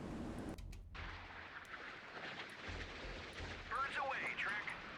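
Missile interception fire aboard a warship in the naval combat game Sea Power: a continuous, heavy rumbling roar of rapid defensive fire, with brief sharp breaks and high twittering effects near the end.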